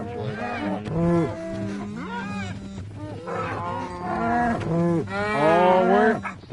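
Cows mooing in the Minecraft video game: a run of drawn-out, pitch-sliding moos that overlap throughout, loud and close, with several calls bunched together near the end.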